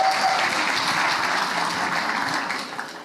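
Church congregation applauding the Lord during a sermon, a dense steady wash of clapping that holds loud for about three seconds before easing slightly at the end.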